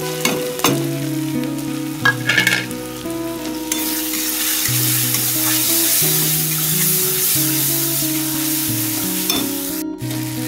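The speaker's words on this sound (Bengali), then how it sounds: "মশলাটা ভালো করে কষিয়ে নেব।" Chicken frying in a pan with salt, turmeric, chili powder, cumin-coriander powder and chicken masala for chicken kasha, making a loud steady sizzle with stirring scrapes and clinks early on, then a continuous hiss under soft background music.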